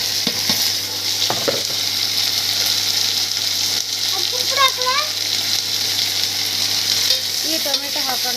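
Onions already browning in oil, with chopped tomatoes going in: a loud, steady sizzle and hiss from the pan, punctuated by a few clatters and scrapes of stirring, with faint voice-like sounds in the background.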